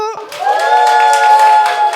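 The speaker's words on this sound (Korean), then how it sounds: "백수저 버스커가 잘했다 다 같이 박수" A crowd claps together at a street busking contest, with rapid clapping under a strong tonal hum, fairly loud and close, and a voice is briefly heard at the start.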